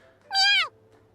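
A kitten in the video game You and Me and Her gives a single clear, high-pitched meow, short and close against near silence.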